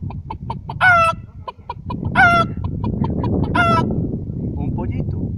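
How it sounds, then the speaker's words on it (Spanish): A hen clucks in a steady run of short, close clucks, broken by three louder, drawn-out squawking calls. "Una gallinita."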